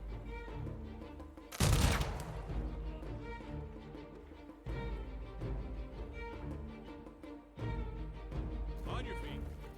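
Archers loose a volley in the strategy game Humankind, one sharp, loud burst of massed release, followed by rolling battle noise and further surges under shouted commands.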